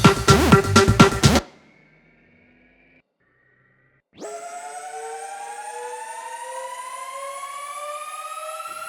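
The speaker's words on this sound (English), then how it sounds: "Which is a preset from a toolroom sample pack or preset pack. An alarm." An alarm preset from a Toolroom sample pack for house music production: a short rhythmic hit, a pause, then a loud sustained siren-like tone that slowly rises in pitch.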